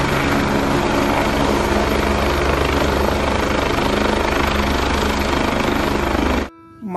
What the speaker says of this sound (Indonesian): Wow, lihat, ada helikopter,